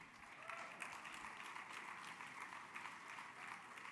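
Audience applause at the Human Rights Campaign Los Angeles dinner, a steady wash of many hands clapping from a large crowd, continuous and fairly even throughout without a lull.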